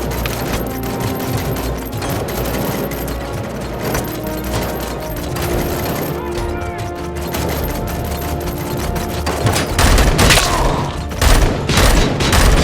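Sustained gunfire in the video game Robocop Rogue City: loud, dense automatic bursts fill the whole stretch, with heavier booming shots piling up near the end.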